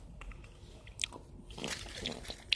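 Someone bites into a two-colour black and white chocolate surprise egg: a close, crisp crack of the shell followed by a brief crunching and chewing.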